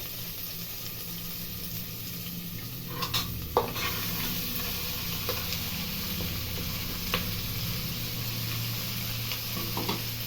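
Sliced onions fry in a pan for a mixed sprouts sambar, a constant sizzle and hiss with occasional spoon scrapes and clinks against the pan, close and steady.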